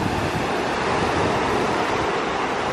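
Sea waves at Bali Hai Beach Resort in Bauang, La Union, Philippines, make a continuous broadband rush of surf with steady wind-like noise and no voices.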